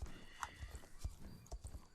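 Horse hooves clip-clop in the video game Star Stable Online, a quick uneven series of soft thuds with a faint whinny-like tone, over quiet background ambience.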